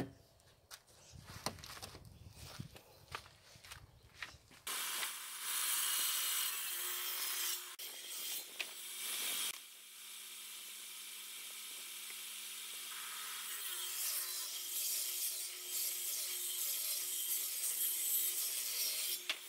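A table saw rips a wooden board to an 18 mm thickness for a utility-room shelf. Handling knocks come first, then a loud, steady cut with a high whine that runs for about fifteen seconds with no talk.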